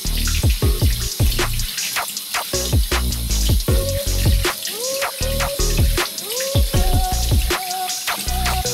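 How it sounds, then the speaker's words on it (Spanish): Hands are scrubbed and rinsed under a running tap, with a steady stream of water splashing and sloshing close up, broken by wet rubbing and brief shifts in the flow. "Vamos a lavarnos las manos antes de aplicar el desinfectante."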